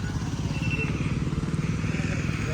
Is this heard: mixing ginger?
no